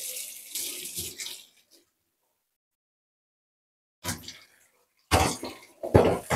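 Food is rinsed under a running kitchen tap in short bursts: a splash of water at the start, a silent gap, then two louder gushing spells of water close by.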